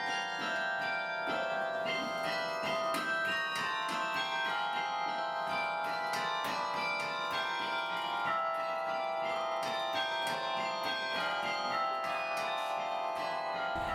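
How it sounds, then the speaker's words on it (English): Campus tower bells ring in a sustained, overlapping stream of bright tones, moderately distant and continuous without pause. "you can hear the bells and see the tower from practically any part on campus"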